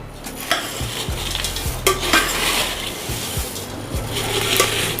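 A spoon tosses fried poha chivda with fried coconut, dal, peanuts, raisins and cashew pieces in a pan, producing repeated close scraping and rustling strokes with light metallic clinks, up close with no voices.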